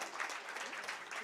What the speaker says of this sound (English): There's a big round of applause.